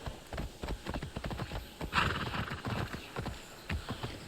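Rapid clip-clop of horse hooves galloping in the video game Immortals Fenyx Rising, a quick steady rhythm of close thuds, with a brief snort or whinny partway through.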